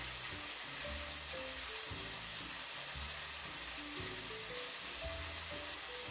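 A tortilla wrap warms in a hot buttered pan, giving a soft, continuous sizzle with faint scraping and stirring sounds over a steady frying hiss.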